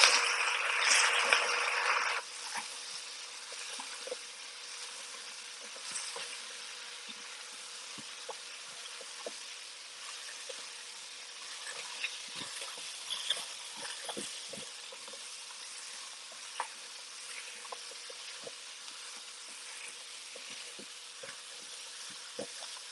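Coconut curry cooking in a pan, a soft continuous sizzle with light scraping and stirring ticks, louder and hissier at first, then settling to a quiet steady bubbling fry with no talking.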